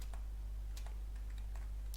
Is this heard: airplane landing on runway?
no